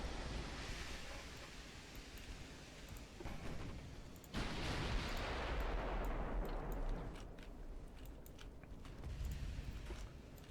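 Heavy naval guns fire from warships in the Black Sea in Ultimate Admiral: Dreadnoughts, a sudden loud boom rolling into a long rumbling roar over a constant surf-like wash of sea noise.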